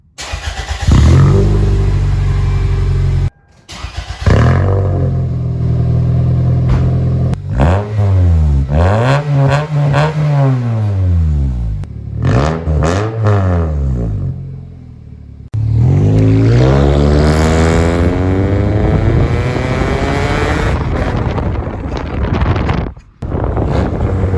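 A Toyota Corolla with its exhaust resonator removed revs hard and loud, rising and falling in repeated swells with raspy harmonics, brief pauses between bursts and a long sustained climb near the end, heavy wind buffeting the microphone.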